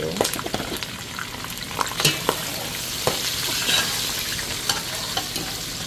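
Garlic, onions and thyme sizzling in a pan for a Nigerian tomato stew, with a spoon stirring and scraping through a steady close fry, scattered clicks and taps over the hiss.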